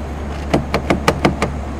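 A tractor door lock engages via keyless remote, giving a quick series of six sharp clicking knocks, close and clear with no talking.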